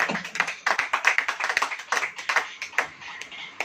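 A church congregation claps during a sermon, a lively, fairly even run of many hands that grows looser and quieter toward the end.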